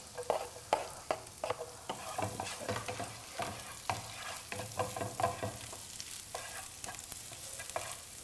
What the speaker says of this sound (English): So oil's hot, first garlic goes in, about a teaspoon worth of garlic,